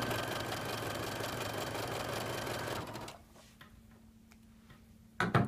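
A sewing machine chain piecing quilt blocks runs in a fast, even mechanical whir with rhythmic ticking for about three seconds, then stops, leaving a low hum and a few faint clicks before a brief clatter at the end.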